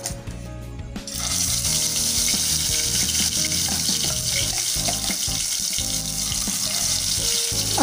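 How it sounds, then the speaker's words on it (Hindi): Mustard seeds and cumin sizzling in hot oil in a pan, a loud steady crackling hiss that begins abruptly after a second and continues up close. "इसमें राई और जीरे का तड़का लगा देते हैं।"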